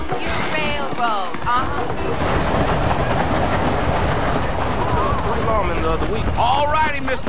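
Train rolling on the Pacific Union Railroad in the Red Dead Redemption video game, a steady clickety-clack rumble with people talking over it throughout.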